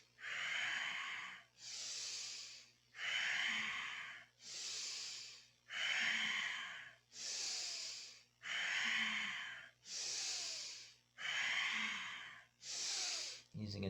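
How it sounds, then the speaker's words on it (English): Slow, deep breaths drawn in and out through the nose during a Kundalini yoga kriya, about ten long, even breathy cycles, loud and close, alone with no talking. "Using a deep breath."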